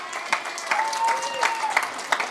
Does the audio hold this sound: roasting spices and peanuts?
no